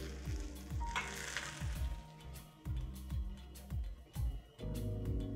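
Tuna coated in sesame seeds sizzles steadily in a hot pan, with repeated scraping knocks as the pieces are turned, close and continuous without speech.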